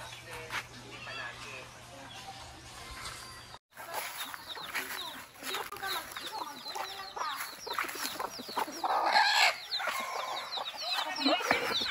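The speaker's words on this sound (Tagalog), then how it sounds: "At ang mga chicken na nangingitlog, ayan." Egg-laying hens cluck and murmur nearby on a farm, soft repeated calls rising now and then above a constant background hum, with people talking intermittently.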